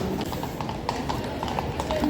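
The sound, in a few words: horses' hooves clip-clopping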